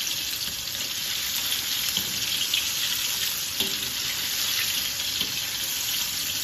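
Pieces of sea bass and celery stir-fry in oil in a pan while being stirred, giving a loud, continuous close-up sizzle that holds steady throughout with no talking.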